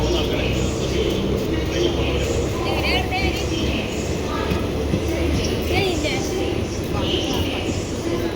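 The Mangalore–Chennai Mail pulls out of a station platform with a steady rumble of rolling coaches and rail clatter, loud and close. Voices and station noise carry on over it throughout.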